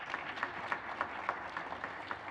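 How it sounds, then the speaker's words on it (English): A congregation at a Sunday worship service claps together in steady, broad applause, many hands patting at once with a few sharper accents standing out, moderately loud and with no voices over it. "Give yourselves a round of applause for that."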